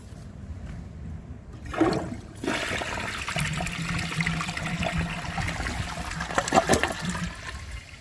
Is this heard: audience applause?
no